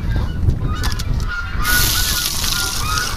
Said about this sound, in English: Are the Canada geese here?